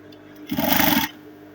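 A sewing machine stitching an Ankara fabric dress: one short half-second burst of fast, buzzing mechanical whirring, close and loud, starting and stopping abruptly against a quiet room.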